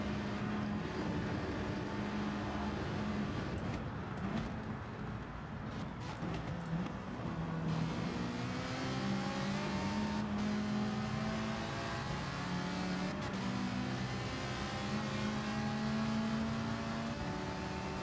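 Racing car engines at the Nurburgring in Gran Turismo 7, a sustained whining drone with rising and falling pitch as the cars accelerate and shift, steady and fairly loud, without talk.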